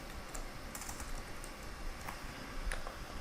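Quick, faint keystrokes tap on a computer keyboard in an irregular run of light clicks over a soft background hiss, with no voices.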